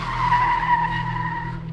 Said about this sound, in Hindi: नाना जी ने झटके से अपनी ब्रेक मारी